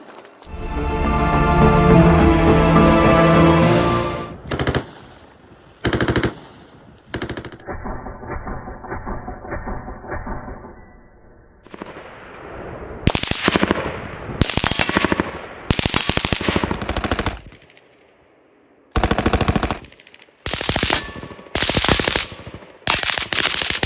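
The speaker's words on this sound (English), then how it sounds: "where I want to unleash hell with a belt-fed machine gun" A belt-fed machine gun fires several loud bursts outdoors, with a sustained ringing burst at the start followed by shorter rapid volleys separated by brief pauses.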